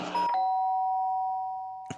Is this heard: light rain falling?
no